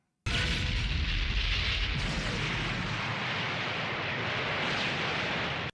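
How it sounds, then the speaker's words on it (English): Bomb explosion in the animated series Robotech: Sentinels, a sudden loud blast that erupts and rumbles on as a sustained roaring burst for several seconds before cutting off abruptly. "It's a bomb, everybody."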